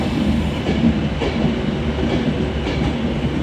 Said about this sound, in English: 390-104 off to Glasgow Central from London Euston.